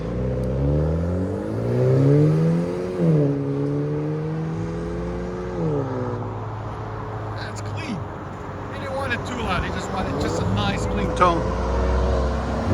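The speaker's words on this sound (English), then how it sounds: "Genesis G70 sedan, 4-cylinder turbo. Here we go with vibrant catback." A Genesis G70 sedan with a 2.0L four-cylinder turbo and a Vibrant catback exhaust revs up and settles in rising and falling drones, close and fairly loud, with a person talking during the later part.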